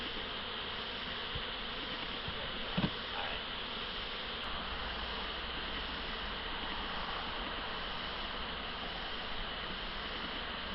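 Honey bees buzzing around a hive during a honey harvest: a dense, steady swarm hum fills the whole stretch at moderate volume, with no talk.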